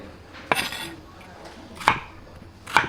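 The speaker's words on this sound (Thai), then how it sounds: "เราจะหั่นเป็นแบบสี่เหลี่ยมผืนผ้านะครับ" Three sharp knife chops through bitter melon on a cutting board, spaced unevenly about a second apart, close and fairly loud.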